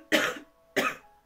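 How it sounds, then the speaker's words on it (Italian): A woman with a cold coughs twice in quick succession, two short sharp bursts close to the microphone separated by a brief silence. "Se ogni tanto tossisco come mi viene adesso"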